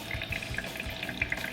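Water dyed a dark colour trickles and splashes through a Brita filter, a soft, steady running flow with small irregular drips heard close up.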